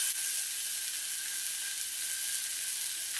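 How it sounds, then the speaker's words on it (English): Sausage browning in a hot skillet gives a loud, close, continuous sizzle with no pauses and no voices over it. "we're going to brown our sausage. So my skillet is all nice and hot"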